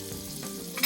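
Butter melting and sizzling in about a tablespoon of olive oil in a pot, a steady close frying hiss that holds through the short moment and brightens near the end.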